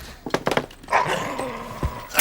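A dog gives a few quick, sharp barks, then a longer whining yelp, close by, followed by a short scuffle and a thump.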